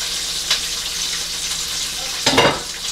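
Buttermilk fried chicken frying in hot oil, a steady close crackling sizzle with a couple of louder bursts of bubbling, no voices over it.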